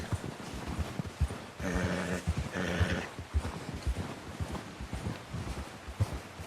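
In Red Dead Redemption 2, a horse whinnies loudly in two drawn-out bursts, with steady clip-clop hoofbeats and rustling around them.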